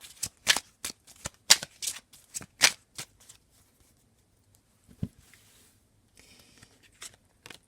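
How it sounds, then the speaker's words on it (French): Mary Hanson-Roberts tarot deck being shuffled, a quick run of about a dozen crisp riffling bursts up close, then a pause with a lone card snap and faint papery rustles near the end. "on va prendre notre joli petit tarot de Mary Hanson Roberts"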